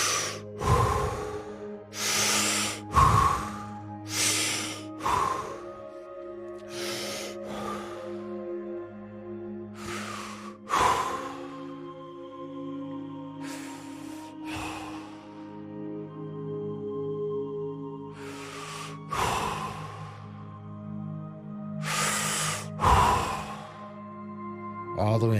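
Deep breathing during a guided breathing exercise: a series of forceful inhales and exhales at an uneven pace, some quick and sharp, others longer and drawn out, heard close against a soft sustained musical drone.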